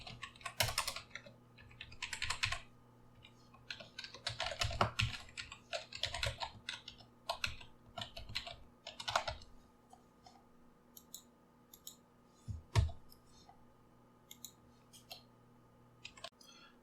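Java code being typed on a computer keyboard, rapid bursts of key clicks separated by short pauses, close and fairly quiet with no one speaking.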